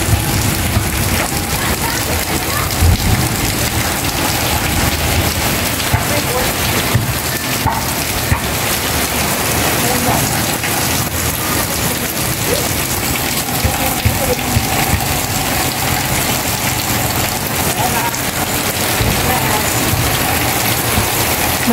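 Steady, dense rain pours down without a break, a constant broadband hiss of drops hitting surfaces, with a faint low rumble underneath.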